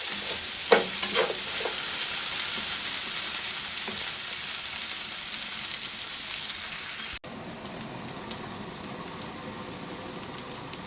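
Potatoes frying in a pan, a steady close hiss and sizzle with a few crackles and stirring knocks early on, continuing at an even level throughout.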